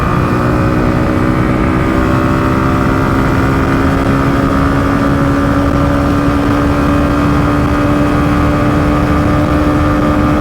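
A Hero Glamour X 125 motorcycle engine runs in third gear during a ride, a loud, steady drone with a tone rising slowly as speed builds, heavy wind rush throughout and no voices.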